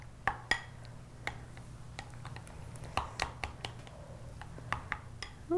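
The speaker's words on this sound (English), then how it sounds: "I'm going to stir that in good" Lime juice being stirred into a mixture in a kitchen: light, irregular clinks and taps of a utensil against a bowl repeat at close range over a faint hum.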